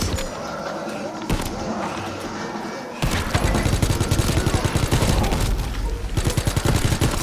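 Rapid gunfire from Call of Duty WWII Nazi Zombies gameplay, shooting zombies: loud dense bursts of shots, building to steady automatic fire in the second half, with game noise underneath.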